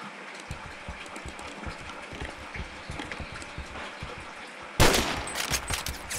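Gunfire in the first-person shooter Phantom Forces, with rapid repeated shots in a steady stream, then a louder burst near the end.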